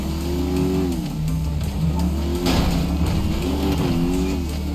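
A big motorcycle engine revving in Grand Theft Auto V, loud and close, its pitch climbing and dropping in repeated surges over a steady mechanical drone.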